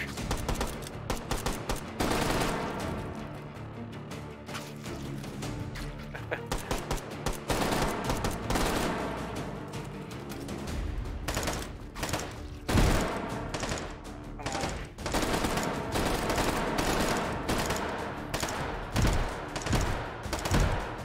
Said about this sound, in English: How is he shooting me through the wall?